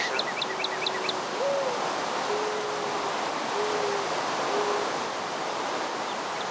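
Owl hooting in Minecraft, a series of soft low hoots spaced a second or so apart over steady rain-like noise, with faint higher bird chirps at the start and no voices.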